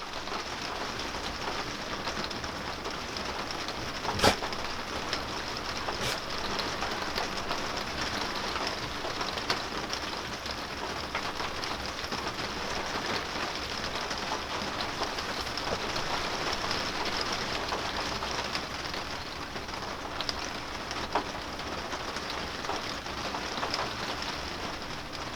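Steady rain falling on a camper in the Swedish wilderness, a constant, even hiss of drops on the roof with a few louder taps, continuing throughout.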